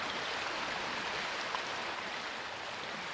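The Reka river flows over impermeable shale in a karst landscape, a steady, broadband rush of water that stays even and constant throughout, with no voices.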